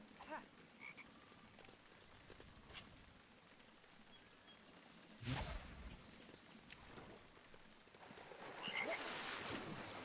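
Frogs caught while fishing in Lego Harry Potter, with croaking amid quiet ambient game sounds, a couple of brief bursts and a louder rustling swell near the end.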